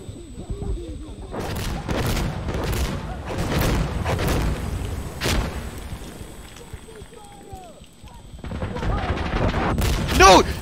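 Bursts of gunfire and sharp blasts ring out in the shooter game Insurgency: Sandstorm, with repeated loud cracks and a heavy boom near the end, while players talk and shout between shots.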